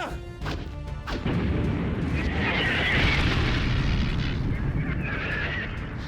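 A grenade explodes in a sci-fi action film, heard as a brief clatter and then a heavy, sustained roaring blast with rumbling debris that fills the rest of the moment at steady loudness.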